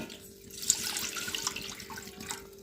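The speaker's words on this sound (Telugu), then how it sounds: "ఒక డేషి పెట్టేసి దాంట్లో తగినంత వాటర్ పోసేసి" Water splashes and gushes steadily into a cooking pot for a couple of seconds, close by, with no voices.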